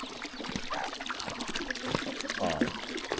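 Water pours and trickles steadily into a drinking pool for farm animals, a continuous splashing flow with faint background noise and occasional soft voices.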